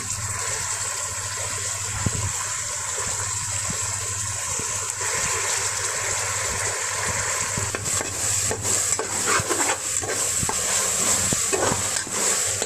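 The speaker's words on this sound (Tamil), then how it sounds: "இஞ்சி அந்த பேஸ்ட் நல்லா வதங்கினது அது கூடவே நம்ம க்ளீன் பண்ணி வச்சுருக்கேன் இந்த புதினாவை வாஷ் பண்ணி வாஷ் பண்ண சேர்த்துக்கலாம்" Ginger paste and mint leaves sautéing in a pan for pirandai paneer pulao, a steady close sizzle with stirring scrapes and clinks that grow busier toward the end.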